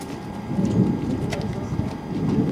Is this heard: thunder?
yes